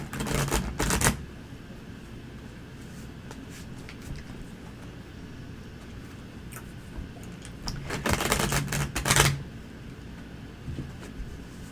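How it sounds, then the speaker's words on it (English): Tarot cards riffled and shuffled, two quick crackling bursts of rapid flutter, one at the start and a longer one near the end, close to the listener with quiet room noise between. "Where do you want me to shuffle today?"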